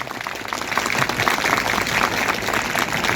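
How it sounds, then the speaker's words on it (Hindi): An audience at a rural children's science exhibition gives a hearty round of applause for young participants, steady dense clapping that swells after a quieter start. "तो ऐसे बच्चों के लिए एक बार ज़रा जोरदार ताली जो सड़क तक जानी चाहिए।"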